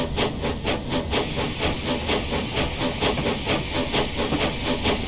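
Cockatiel 0-4-0T tank steam locomotive in Train Simulator Classic, chuffing in a steady rapid rhythm of hissy exhaust beats over a constant steam hiss, close and even throughout.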